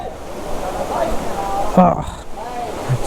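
Agaya Gangai falls rushes as a steady broadband wash of falling water beneath someone speaking close by.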